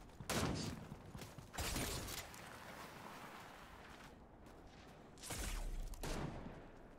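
Distant gunfire from many people shooting in a video game, a few loud bursts of shots separated by quieter rumbling stretches, with no talking.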